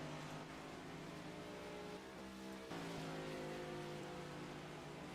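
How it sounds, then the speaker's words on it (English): Race cars in a Carvana Cup Series qualifying session at COTA pass as a group, a faint, distant, continuous engine drone that rises and shifts in pitch. "There's a whole group of cars going on past."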